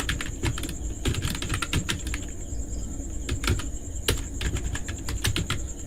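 Keys clatter on a computer keyboard while a prompt is typed into Google Apps Script, quick irregular clicks in short bursts with pauses, close and moderately loud, and nobody speaking.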